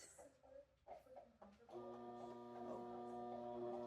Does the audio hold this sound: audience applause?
no